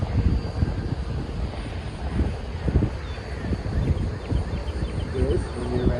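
E-flite Habu STS ducted-fan RC plane flying with a steady engine drone and wind buffeting the microphone, while a voice talks over it throughout.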